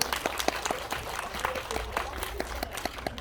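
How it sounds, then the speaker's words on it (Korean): Cinema audience applauding during a stage greeting by director Park Chan-wook and actors Tang Wei and Kim Shin-young at CGV Mokdong, a steady, moderately loud patter of many clapping hands with brief sharper claps throughout. "큰 박수 부탁드리겠습니다"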